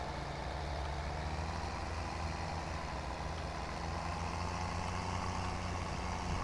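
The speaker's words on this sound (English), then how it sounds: "Oh, this has got a nice diesel engine." The diesel engine of an old farm machine on a run-down farm, a steady low rumbling idle with an even throb that runs unbroken from start to finish, close and moderately loud with no voices.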